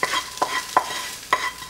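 Onions and ham tipped into a crock pot liner already holding black-eyed peas: a few separate soft, quick rustling thumps spaced across a short stretch, close and fairly clear with no talking.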